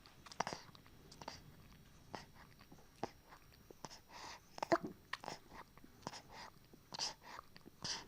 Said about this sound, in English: Can you hear the actual swallowing as well of the milk?